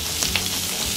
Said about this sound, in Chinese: 爆香我们的洋葱